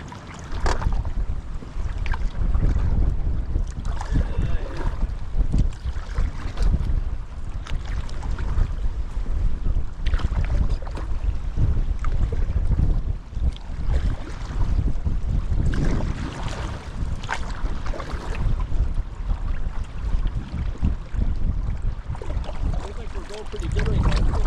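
Steady wind and rough, choppy water slap around a canoe on a backcountry trip, the current running against the wind and raising small surf; the roar is loud and continuous, with faint voices now and then.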